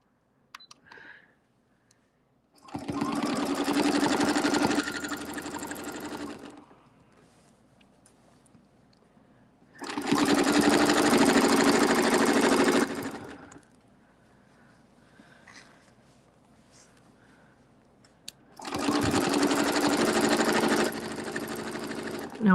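A sewing machine stitches in three loud bursts of a few seconds each, separated by quieter pauses, during quilting work using a circles and straights tool; a person talks softly in the gaps.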